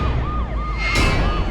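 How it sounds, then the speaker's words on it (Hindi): An ambulance siren wails in a rapid rising-and-falling pattern, loud and close, over a dense rumbling background. "एम्बुलेंस"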